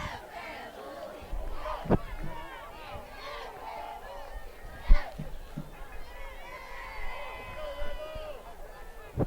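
Crowd noise at a high school football game with Boyle County Rebels cheerleaders chanting, a steady mix of shouting voices and babble with a few sharp thumps, moderately loud throughout.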